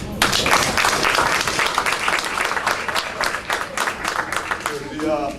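A crowd claps and applauds loudly and steadily for several seconds at a student athletes' signing ceremony, the clapping thinning out slightly toward the end.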